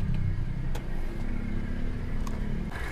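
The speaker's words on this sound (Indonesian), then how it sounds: "ini mesinnya masih halus ya, nggak ada masalah sih" A grey used car's 2000 cc engine idles with a steady low hum, a smooth continuous rumble close by with no voices over it.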